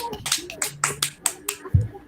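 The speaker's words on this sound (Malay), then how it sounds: "Okay, kita tepuk tangan kepada kawan-kawan kita" Scattered, uneven hand claps from a small group of classmates in a school club session, a few sharp slaps spaced across roughly two seconds and fairly quiet, with a voice faintly in the background.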